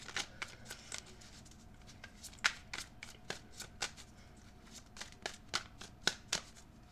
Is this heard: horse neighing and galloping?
no